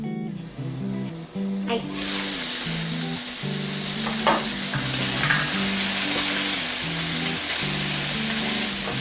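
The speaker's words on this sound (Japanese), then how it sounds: "また蓋を閉めて2分ほど焼き色をつけていきます。" Pork spare ribs with onions searing in a covered waterless pot: a steady, loud sizzle and crackle of frying runs throughout, with a brief spoken word near the start.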